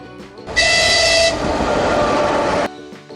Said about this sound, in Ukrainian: потяг